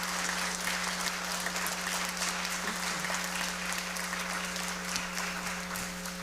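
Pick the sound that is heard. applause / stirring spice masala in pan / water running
applause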